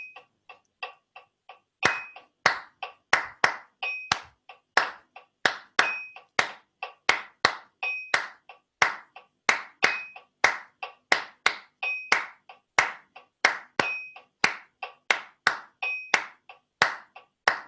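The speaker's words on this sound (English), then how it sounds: "now I'm going to clap this one" Hands clapping a steady rhythm in 6/8 time alongside a faint repeating metronome-like tick, sharp dry claps grouped in regular patterns, close and clear with no talking.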